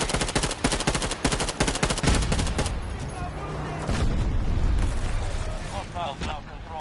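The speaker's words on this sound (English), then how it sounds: "Because they're definitely firing multiple rockets." Rapid bursts of gunfire and rocket launches from Javelin launchers crack out in a Battlefield 2042 match, dense and loud at first, then giving way to rumbling blasts and a voice talking over the battle.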